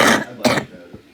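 A couple of sharp, harsh coughs or throat-clearing bursts close to the mic, followed by a quieter trailing breath.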